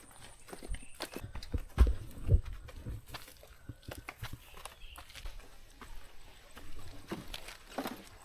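Service horses carrying gear on a trail at a nature camp clip-clop in an uneven, shuffling rhythm of hoof strikes. The sound is faint and somewhat distant, with a couple of louder thuds along the way.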